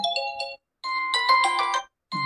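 A bright electronic ringtone melody from a Vivo Y28 5G phone plays in short chiming phrases, stopping and restarting, clear and close with silent gaps between.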